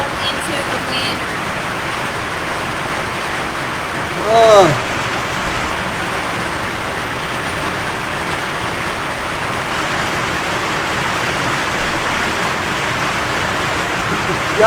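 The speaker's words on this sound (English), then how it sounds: "I apologize again for all this rain." Steady rain falls outdoors during a bass fishing tournament outing, a constant broadband patter filling the scene with one brief louder swish midway.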